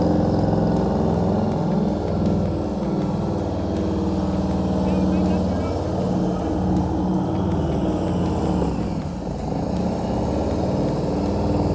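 A motorcycle at low speed during slow-speed riding practice: a loud, steady engine rumble with shifting pitch as the throttle and clutch change, sustained throughout with a brief dip near the end.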